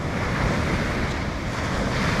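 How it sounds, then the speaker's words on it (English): Ocean waves breaking on a beach in Thailand, a steady, loud rushing surf that washes on without pause, with no voices heard. "very nice waves, Jeff."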